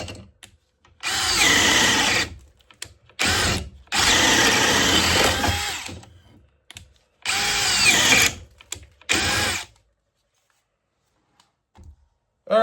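A DeWalt DCD803 cordless drill on speed 2 drives a 1 1/8 inch Jorgensen paddle bit into wood, whirring loudly in four bursts of several seconds each, separated by short pauses, then stopping.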